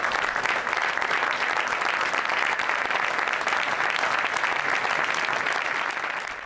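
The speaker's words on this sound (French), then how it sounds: "un peu d'applaudissements pour l'histoire de l'OM" Sustained, even applause from a large audience at a film premiere for a movie about the Marseille football club, a dense wash of clapping holding steady throughout and tapering slightly at the end.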